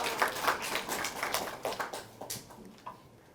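Brief, scattered clapping from middle-school students welcoming a guest in a classroom, a few close claps that thin out and fade within seconds.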